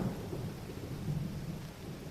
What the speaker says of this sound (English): A flash of lightning was flung into the asphalt, and the air sizzled with static and boomed with thunder.